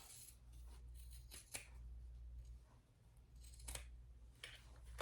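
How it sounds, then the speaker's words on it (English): Scissors snip through cotton fabric while a fold-and-go wallet is being sewn, giving several crisp, close cuts with short pauses between them over a low background hum. "Grab my other scissors and trim these in two."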